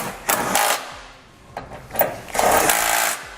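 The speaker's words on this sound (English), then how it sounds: "we'll go ahead and tighten them up. We're going to use an 18mm socket." Socket tool tightening trailer hitch bolts with an 18mm socket on a 2009 Volkswagen, giving several loud, close bursts of mechanical whirring with brief pauses between them.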